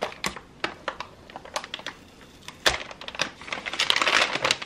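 An EVGA electrostatic bag holding a GeForce RTX 3060 Ti graphics card peeled open by hand: sharp crinkly crackles and snaps in irregular bursts, close and fairly loud, building into a dense rustle at the end.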